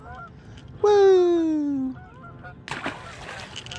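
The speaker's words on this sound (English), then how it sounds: "Geese are not happy." A single loud goose honk, long and descending, rings out close by, followed by a brief excited shout from a person.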